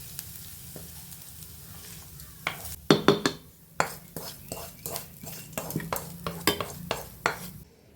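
Close and fairly loud, a spoon scrapes and clinks around a bowl as chopped vegetables are stirred into idli batter for Chettinad kara paniyaram, in a series of irregular strokes over a soft background hiss.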